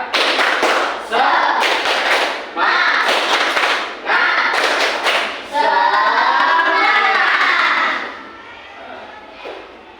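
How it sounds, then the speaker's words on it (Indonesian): Schoolchildren in an elementary classroom perform a rhythmic clapping chant, with loud bursts of claps in repeated patterns and voices chanting along, fading near the end. "Tepuk semangat, sudah bisa? Tepuk semangat."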